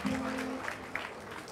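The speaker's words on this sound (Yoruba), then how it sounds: "ẹ̀yin òbí ẹ pàtẹ́wọ́ fúnra yín o" Parents clapping for themselves at a gathering, a soft spread of applause from a crowd under a voice speaking, fairly distant and quiet.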